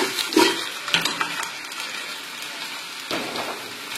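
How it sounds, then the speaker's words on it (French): Vegetables sauté in a pot for chicken couscous while the pot is shaken, giving soft sizzling with several sharp clattering bursts as the contents are tossed, then a steadier low fry. "On va faire revenir tout ça pendant 2-3 minutes, en faisant sauter la marmite comme ça."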